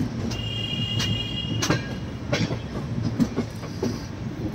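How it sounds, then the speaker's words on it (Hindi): A superfast festival special passenger train rolls past close by with a steady rumble, rhythmic wheel clatter and brief high wheel squeals, loud and continuous. "ये है सुपर फास्ट स्पेशल ट्रेन जो कि है 6 घंटे लेट।"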